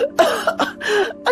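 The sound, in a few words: loud coughing sound effect in a narrated story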